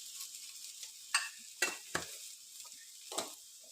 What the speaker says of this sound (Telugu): ఇలా ఆయిల్లో ఫ్రై చేసుకున్నాం అనుకోండి, కొంచెం కుక్ అయిపోద్ది